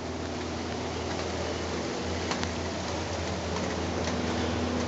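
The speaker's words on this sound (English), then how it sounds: "you can hear it starting to rain again" Steady rain begins falling outdoors near a chicken coop under construction, a continuous even hiss of drops on surfaces with no talking.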